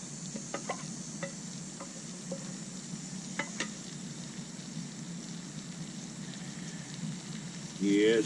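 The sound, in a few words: onion and red and green peppers frying in butter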